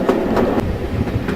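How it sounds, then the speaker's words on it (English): A West Somerset Railway train runs on its final stretch of line, giving a steady rolling rumble with rhythmic clickety-clack wheel beats at close range and no voices. "The train is now on the last part of the journey and nearing the end of the line."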